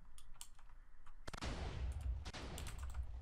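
A video game cannon fires and blasts through a wall: a sharp boom is followed by a burst of crumbling, rattling debris, with some faint clicking before and after.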